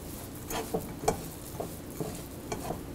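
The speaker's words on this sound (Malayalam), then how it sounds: "കറിവേപ്പില, ചതച്ച മുളക്, കായപ്പൊടി, ആവശ്യത്തിന് ഉപ്പ് എന്നിവയിട്ട് നന്നായിട്ട് മിക്സ് ചെയ്യുക." Lentil vada batter is mixed by hand with curry leaves, crushed chili, asafoetida and salt, giving several soft, wet squelching presses in an irregular rhythm over a steady background hiss, close and fairly quiet.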